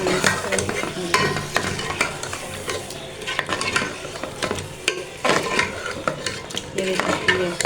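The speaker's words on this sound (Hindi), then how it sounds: "थोड़ी देर हम इसको फ्राई कर लेते हैं" Chicken with spinach, seasoned only with salt and chilli, sizzles in a pan while a spoon stirs and scrapes it in frequent sharp clatters. The sizzle sounds close and steady, and no one speaks.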